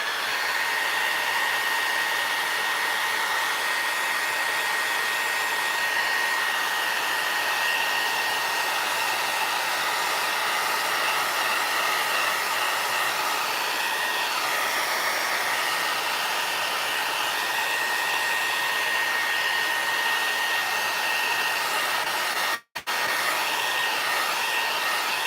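A hair dryer blows continuously and steadily at close range for about twenty-five seconds while drying crackle paint on a small wooden Easter sign, with one brief dropout near the end.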